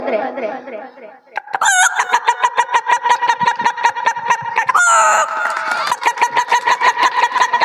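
A voice imitates a rooster crowing, delivering long, loud, stretched crows followed by rapid clucking pulses, close and clear with no other talk.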